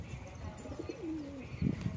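Pigeons coo in a low, wavering call near a loft full of birds and young, with a short rising-falling coo in the middle and a few soft bursts toward the end over faint background noise.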